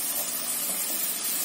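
Garlic sizzling in a hot pan while cooking Piemontese rice, a steady close sizzle and hiss that holds evenly throughout with no talking.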